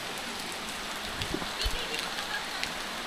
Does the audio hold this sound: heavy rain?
yes